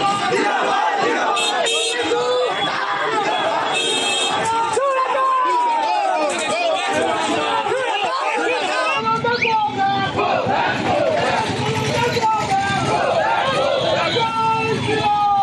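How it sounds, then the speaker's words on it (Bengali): A dense crowd of BJP workers at Diamond Harbour shouts go-back slogans at Sukanta Majumdar, a loud, continuous roar of overlapping voices and rhythmic chanting outdoors with no pause. "diamond হারবারে Sukanta মজুমদারকে go back slogan দিচ্ছেন বিজেপি কর্মীরাই"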